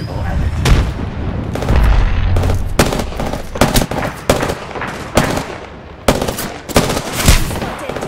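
Video game gunfire rattles in loud, close bursts of rapid shots with heavy impacts and a rumbling background, some bursts cutting off briefly before starting again.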